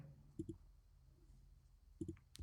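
Two quick double clicks of a computer mouse, close and faint, spaced more than a second apart against quiet room tone, followed by a brief soft tap at the end.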